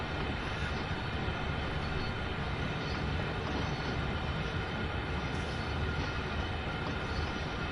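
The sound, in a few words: Heathrow Express train in the video game Train Sim World 2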